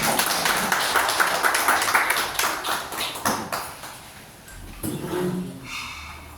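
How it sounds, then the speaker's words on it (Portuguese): Church congregation clapping in praise at an evangelical service, a brisk rhythmic run of hand claps that starts loud, then thins into scattered claps and softer room noise. "Dê as palmas louvam o Senhor."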